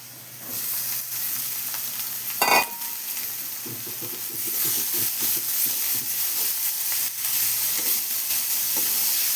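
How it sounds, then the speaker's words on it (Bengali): Chopped banana blossom fries in spices in a pan over medium heat, with a constant hissing sizzle, a loud clank of the spoon early on, and then repeated stirring scrapes nearby. "ভালো করে মশলার ভিতরে ভেজে নেব ওকে।"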